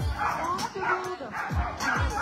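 Sled dogs at a race start bark and yip excitedly, a close, busy chorus of overlapping barks and whines, with a voice talking underneath.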